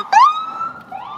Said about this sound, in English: Oh my God, another ambulance.